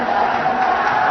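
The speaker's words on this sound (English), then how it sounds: "Has given the Vietnamese supporters something to cheer about" Vietnamese supporters cheer after a goal by Vo Huy Tuan at the 2014 Asian Games match against Iran, a dense, loud crowd roar sustained through the brief moment.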